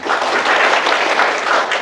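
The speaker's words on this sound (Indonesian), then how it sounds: "Tepuk tangan dulu buat Tuhan" A church congregation bursts into loud, dense applause during a Christian sermon, steady clapping filling the short moment without any voice over it.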